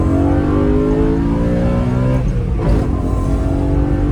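A BMW M3 E92 with a naturally aspirated V8 revs hard and close, its steady loud roar shifting pitch midway as the engine climbs and drops.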